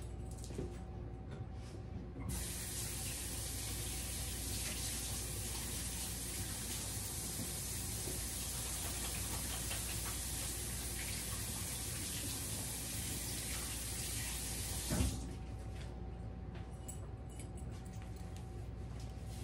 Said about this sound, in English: Let me wash this off my hand.